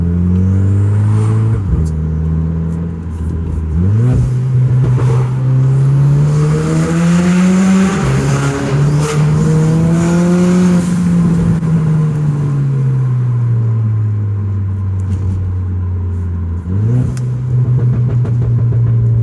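A Renault Clio 4 RS Stage 3 hot hatch with stock exhaust revs hard and climbs through the gears, loud and close, with a shift pause and a fresh pull near the end; no talking.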